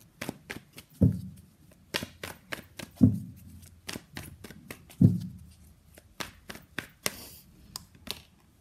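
Playing cards shuffled for a tarot reading: a series of quick, close riffling bursts and soft slaps, with three heavier thumps spaced about two seconds apart, and no voices.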